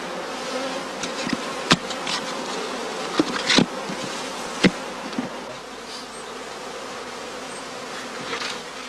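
Honeybees buzz steadily inside a closed box used in traditional skep beekeeping on the northern German heathland, a continuous close drone broken by a few brief sharper bumps and taps, with no voices.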